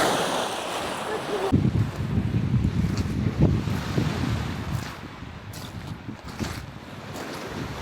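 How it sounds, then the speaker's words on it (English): Strong gusty wind buffets the microphone with a steady roar on the shore at Gibsons, British Columbia, and waves wash faintly in the background. "It's quite windy"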